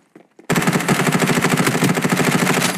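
Rapid automatic gunfire in the battle game Farlight 84 erupts after a short quiet lead-in, a loud, steady burst of shots that continues to the end.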